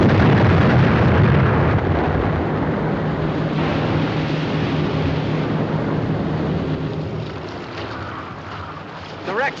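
A wartime explosion in a 1951 war film gives a loud, rumbling blast that rolls and slowly fades over several seconds, with a brief pop near the end.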